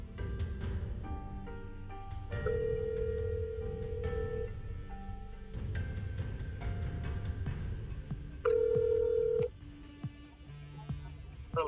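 Telephone call being placed to confront a suspected predator: electronic dialing beeps followed by two long, steady ringback tones, heard fairly close over a busy background of other tones.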